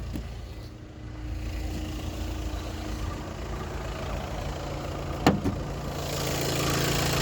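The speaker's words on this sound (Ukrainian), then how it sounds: "Моторчик працює тихенько, рівно." A 2018 VW Tiguan 2.0 TDI diesel engine with 150,000 km idles steadily at low volume, a soft continuous hum with a brief knock partway through, no voices.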